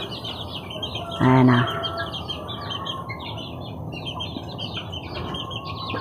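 Hen and her half-grown chicks cluck and peep close by in a farmyard, with steady high chirping throughout and a short louder cluck burst; a person talks briefly over the birds.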